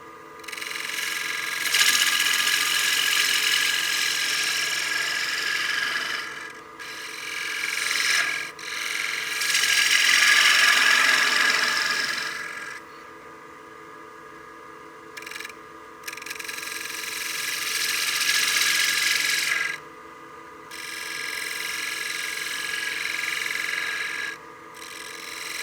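A bowl gouge shears wood on a spinning lathe while turning a coin box, with long rasping cutting passes broken by brief pauses over a steady motor hum, close and fairly loud.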